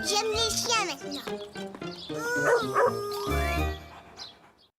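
A cartoon dog in Caillou barks in short bursts among a child's and adult's lively chatter and light background music, the yaps scattered and close.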